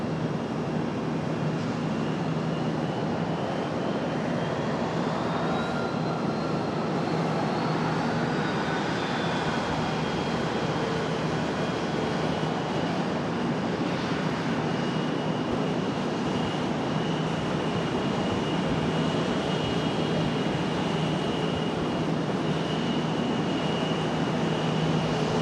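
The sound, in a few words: airliner on the move, Denver flight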